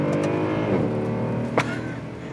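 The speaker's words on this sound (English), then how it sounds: "I love the sound of that exhaust." A Mercedes-Benz W204 C63 AMG engine revs and pulls hard under acceleration, its exhaust rumbling loud and steady with a brief sharper burst partway through.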